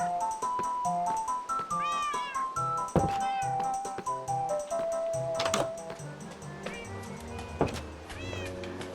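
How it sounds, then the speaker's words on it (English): Many cats meowing in a video game, several overlapping calls with rising and falling pitch, some drawn out into caterwauls, continuing throughout against a busy game soundscape. "Now here we have lots of cats."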